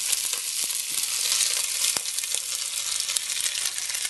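Celery and onion hit hot grapeseed oil in a pot for vegetable soup, giving a steady, close sizzle with occasional sharper crackles and light stirring.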